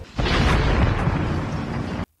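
A suicide bomb explodes in a war story, a sudden loud blast that swells into a dense, rumbling roar for about two seconds before cutting off abruptly to silence.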